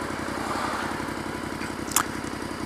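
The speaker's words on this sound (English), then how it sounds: "I'm sitting in the traffic and my bike is idling" A motorcycle engine idles steadily in slow rush-hour traffic, a low continuous rumble holding at a constant level, with a brief sharp click or clatter near the end.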